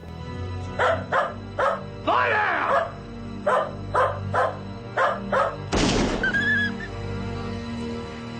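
A dog barks repeatedly in short, sharp bursts, mixed with a yelp, while a person speaks a brief command over it.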